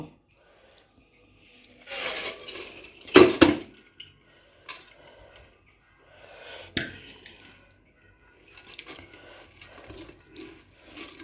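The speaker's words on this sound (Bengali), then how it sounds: "এটা জলটা একটা চালনি নিয়েছি, চালনির মাধ্যমে জলটা পুরোটা ঝরে যাবে।" Water drains from soaked basmati rice poured through a sieve, heard as intermittent splashing gushes and trickles with a strong pour near the start and softer dribbles and drips after, with quiet gaps between.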